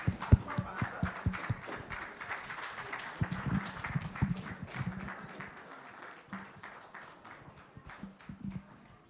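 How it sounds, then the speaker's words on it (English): A congregation at a church wealth summit in Wolverhampton claps to welcome a pastor to the stage, faint, uneven and somewhat rhythmic clapping with low tones underneath, heard from a distance. "give a round of applause, and welcome to the stage Pastor Olutoyin Joshua Kende"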